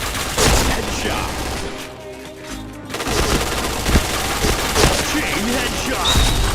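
Gunfire in the online shooter Point Blank comes as dense, rapid volleys and sharp single shots, loud and close. There is a brief lull in the middle before the firing resumes, with game announcer voice lines layered over it.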